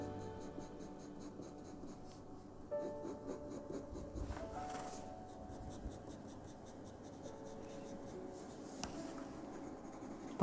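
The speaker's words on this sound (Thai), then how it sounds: "เดี๋ยวเราจะลองระบายสีไม้ทับที่เราดรออิ้งด้วย" Colored pencil shading over a pencil drawing on paper, a continuous soft scratchy rubbing with steady back-and-forth strokes, close and quiet over faint background tones.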